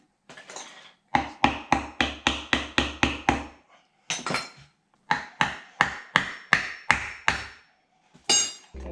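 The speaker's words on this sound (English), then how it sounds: "hammering this down." Metal hammer blows drive a part onto a Mercedes-Benz 4Matic front half axle during a rebuild: two runs of rapid, evenly spaced, loud close strikes with a short pause between them and one more hit at the end.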